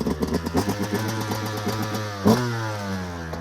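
A Yamaha YZ 125 two-stroke motorcycle engine runs close by with a rattly, buzzing idle, then gets a quick blip of the throttle that rises and settles back.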